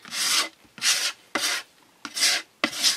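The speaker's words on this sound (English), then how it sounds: "I'm going to use my card here to scrape that on" A card scrapes gesso across a mixed media painting surface in five separate rasping strokes, each a broad, close, dry scraping sweep with short pauses between.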